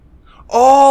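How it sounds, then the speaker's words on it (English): Snake's stomach growling in the video game Metal Gear Solid 3: Snake Eater, a loud, sustained, tonal moaning rumble that starts abruptly halfway through after near silence and holds steady to the end. "That is my stomach growling!"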